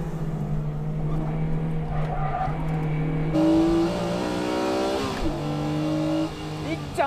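Tuned Honda racing cars, a Tsuchiya NSX and a DC5 Integra Type R, run hard on a circuit, engines revving and shifting loudly with rising and falling notes, while a commentator talks over the racing.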